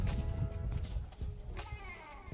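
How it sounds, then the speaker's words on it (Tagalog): A young goat bleats a few times close by amid farmyard shuffling and hoof movement during deworming and vitamin shots. "Bata na kambing"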